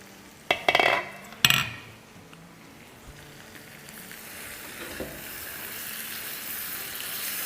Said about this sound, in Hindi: देखें कितनी अच्छी भुन रही है और नीचे से ब्राउन हो रही है, कुक हो रही है